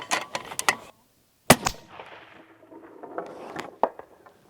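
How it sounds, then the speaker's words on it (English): Three rifle shots fired at a life-size mule deer target 600 yards away, each a sharp, loud crack followed by a rolling echo, with quieter rustling between the shots. "3 shots, 600 yards on the Muley Freak life-size target."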